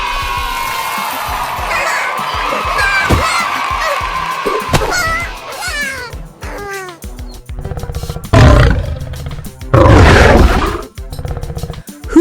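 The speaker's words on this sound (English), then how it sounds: "Is it a duck, a lion, or a horse? You got it! Lion!" A lion roars in a quiz of animal sounds, the deep roars coming in loud, rough bursts near the end after quieter wild-animal calls and bird-like honks at the start, with no talk.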